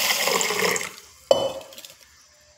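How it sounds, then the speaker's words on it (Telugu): Water pours over washed mung beans in a container to soak them, a rushing splash that thins out, then a brief clink and a short trickling pour before it fades. "నీళ్ళు పోసి నానబెడుతున్నాను"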